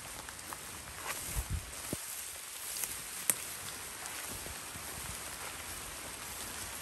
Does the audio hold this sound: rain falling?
yes